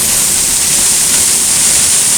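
Eas Mor waterfall heard from behind the falling water, a loud, steady broadband roar and hiss filling the whole clip without pause or voices.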